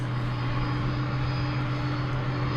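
An airliner at DFW airport drones steadily, a loud continuous engine roar with low hum that holds without a break, no voices.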